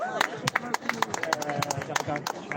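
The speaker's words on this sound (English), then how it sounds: "big round of applause for Taylor here" A crowd giving a round of applause at a political speech gathering in Lincoln, sharp, distinct claps in quick uneven succession, with a voice calling out over them.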